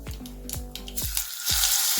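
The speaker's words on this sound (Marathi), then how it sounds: "मोहरी तडतडली, त्यात आपण जिरे घालून घेऊ।" Mustard seeds crackle in hot oil with cumin added, a run of sharp pops and a rising sizzle filling the last half second, close and alone.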